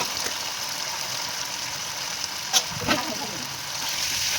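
Boiled banana stem sizzles and crackles as it is fried and stirred into spices in a pan, a steady hiss with a couple of short scraping stir sounds midway.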